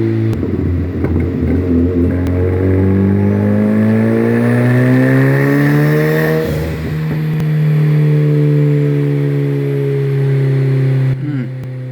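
A Volkswagen Mk2 car engine running on Speeduino is revved on a dyno, climbing repeatedly in pitch, easing off and rising again. The engine is loud and close, with clattery mechanical texture, and a few words are spoken over it.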